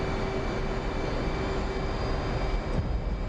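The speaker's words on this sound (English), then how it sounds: "Now we have to ramp up the engine." A steady jet engine roar from an F/A-18 in the DCS flight simulator, a continuous broadband rush with a sustained whine, holding fairly level throughout with no talk.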